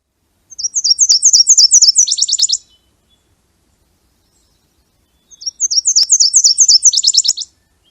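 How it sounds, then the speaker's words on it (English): A Nashville warbler sings its two-part song twice: a run of bright chirped notes that shifts into a quicker second section, each phrase about two seconds long, loud and clear with silence between. "Nashville has 2 syllables, and so their song is a definite 2-part song."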